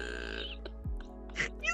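A person's burp, a loud, low mouth noise that sounds like a fart, comes as one brief guttural burst in a quiet room, with faint vocal noises around it.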